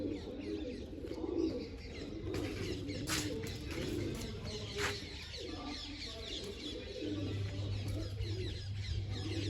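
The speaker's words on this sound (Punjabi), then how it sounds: "ਇਹਦਾ ਆਪਾਂ ਮੇਨ ਕਬੂਤਰ ਹੀ ਵਿਖਾ ਰਹੇ ਆ" Large pet pigeons cooing close by in a loft, low throaty coos repeating over a steady background hum, with other birds chirping and clucking faintly.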